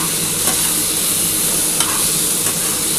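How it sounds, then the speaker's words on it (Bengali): Onion frying in a small amount of hot oil in a wok-style pan, a steady close, loud sizzle with faint stirring scrapes throughout, no voices. "তেলটা গরম হলে আমি প্রথমে কিন্তু পেঁয়াজ দিয়ে দেবো।"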